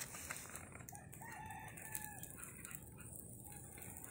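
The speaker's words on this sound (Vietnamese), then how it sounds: "Gà này là gà nuôi thả vườn nên vườn rất rộng thả đấy, nó đang kêu quạc quạc." A free-range rooster in a large garden crows faintly, its drawn-out call rising briefly above a steady wash of background noise; no one speaks.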